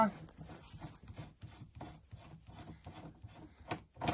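Close, quiet metallic clicking and scraping with a steady ratchet-like rhythm, as the gas regulator and its washer are worked loose and removed from an MG 3 machine gun.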